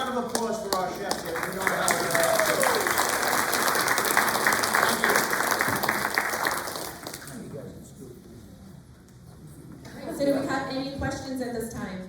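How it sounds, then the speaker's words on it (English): Audience at a residents' management forum applauds the chefs, a loud, dense burst of clapping lasting several seconds that fades out, followed by someone speaking. "And a round of applause for our chefs here."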